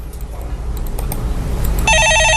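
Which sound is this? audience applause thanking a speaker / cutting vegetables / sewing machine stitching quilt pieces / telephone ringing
telephone ringing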